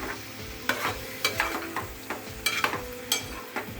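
A spoon scrapes and stirs yellow cucumber curry with onion frying in a pan, sharp clatters repeating at an uneven pace over a soft steady sizzle, close and moderately quiet.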